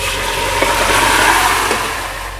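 Mutton dropped into golden fried onions in a pot gives a loud, dense, continuous sizzle that stays steady for a couple of seconds and fades slightly at the end.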